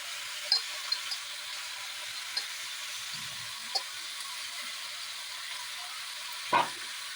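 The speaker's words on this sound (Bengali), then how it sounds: "যে যে সবজিগুলো কেটে রেখেছি সব দিয়ে দিলাম, বাঁধাকপিটাও দিয়ে দিলাম," Chopped vegetables and cabbage frying with onion and spices in a pan for a fish-head curry, giving a steady, moderately loud sizzle with occasional small pops and a few utensil knocks, no voices.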